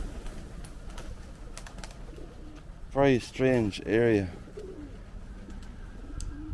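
Pigeons in a graveyard coo three times in a row, clear and fairly close, breaking through quiet outdoor background, with a person speaking briefly before the calls.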